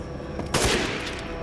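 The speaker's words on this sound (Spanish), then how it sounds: "Me voy a permitir gastar un disparo del francotirador" A single sharp sniper rifle shot in the video game Resident Evil Village, loud and abrupt, with a brief crack followed by a short fading tail.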